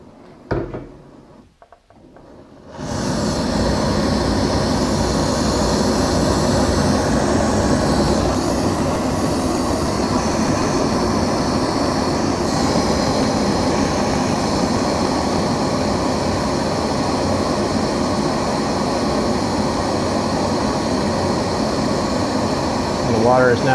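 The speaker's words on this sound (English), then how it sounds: "The water has now reached a hard boil." A PocketRocket canister stove, turned all the way up to boil a cup of water, bursts into a loud, steady roaring hiss after about three seconds of near silence and keeps burning evenly to the end.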